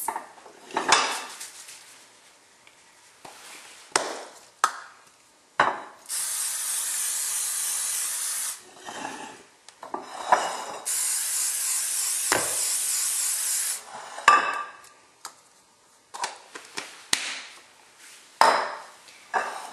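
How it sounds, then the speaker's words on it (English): Cake pans being greased for a confetti cake, with clinks of metal pans and utensils and two long, loud bursts of cooking spray hissing close by, no voices. "you grease your pans."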